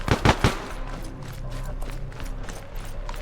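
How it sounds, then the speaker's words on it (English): Incoming gunfire in a military video game: three sharp close shots open, followed by scattered rattling bursts and mechanical clicks at moderate level. "we are still taking fire"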